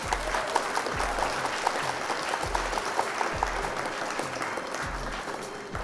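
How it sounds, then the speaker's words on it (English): Applause after an online card game match, a steady patter of clapping sustained for several seconds, moderately loud with no talking over it. "Round of applause for you."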